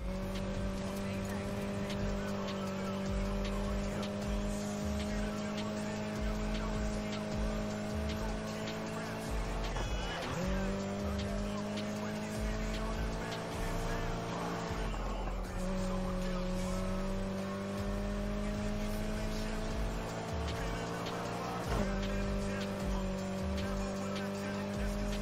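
A car in the racing video game Need for Speed Heat drives with a continuous engine drone whose pitch rises through each gear and drops at every shift, accompanied by occasional tire squeals and a voice talking over the gameplay.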